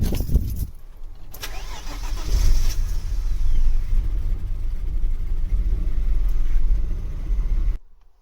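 A Vauxhall Cavalier GL, left unused for a couple of weeks on a driveway, cranks and fires up, its engine catching into a loud, close rumbling idle that holds steady before cutting off abruptly.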